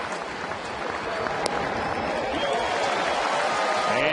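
A baseball crowd rises and roars with sustained cheering and applause in the top of the ninth inning with two outs, a loud, dense wash of clapping that swells steadily throughout.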